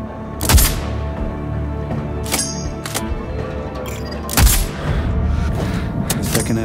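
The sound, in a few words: explosion destroying satellite antenna, from video game Sniper Ghost Warrior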